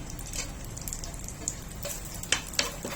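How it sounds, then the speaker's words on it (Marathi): Raisins, cashews, sliced almonds and charoli fry in hot ghee, a soft continuous sizzle with a few sharper pops and crackles near the end, quiet and close. "सर्व तुपावर एक मिनिट परतून घ्यायचंय"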